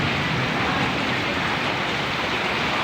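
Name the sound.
strong flowing water current in rain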